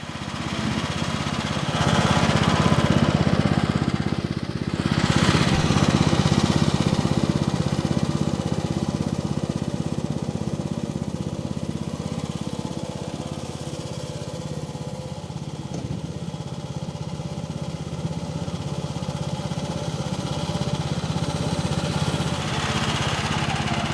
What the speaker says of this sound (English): we'll do some mowing with it just to show you the fine cut that it gives